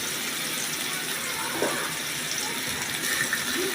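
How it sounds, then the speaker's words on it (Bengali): Hot water pours into a cooking pan of onion, garlic, tomato and soya chunks, a close, continuous splashing gush lasting a few seconds. "একটু গরম জল দিয়ে দিলাম"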